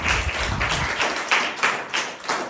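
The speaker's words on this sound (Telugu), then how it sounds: "చప్పట్లు కొట్టండి" A church congregation claps in unison, a series of sharp, fairly close hand claps in a quick, steady rhythm with no speech over them.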